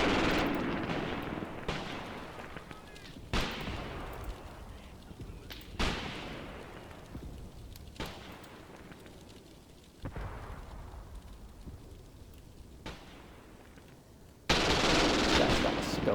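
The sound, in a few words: gunfire and artillery of Soviet attack, WWII video game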